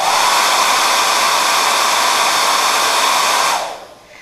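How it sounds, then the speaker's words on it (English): A hairdryer blows loudly and steadily at close range, then switches off and its whoosh fades away. "now we're gonna see what happens when we blow at it with the"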